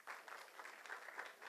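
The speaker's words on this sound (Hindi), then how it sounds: "जोरदार तालियां दोस्तों" An audience at a live Republic Day music and cultural performance in India applauds with steady, continuous clapping. The applause sounds somewhat distant and diffuse and is heard on its own.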